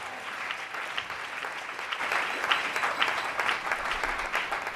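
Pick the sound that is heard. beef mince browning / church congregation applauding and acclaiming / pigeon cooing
church congregation applauding and acclaiming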